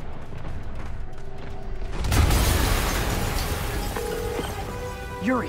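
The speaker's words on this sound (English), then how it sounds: "an explosion just..." A deep boom bursts out suddenly partway through an action scene in Marvel's Spider-Man, followed by a rumbling, crackling roar that slowly fades, with a faint tonal game sound near the end.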